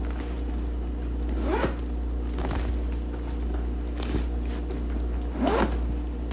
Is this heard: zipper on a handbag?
yes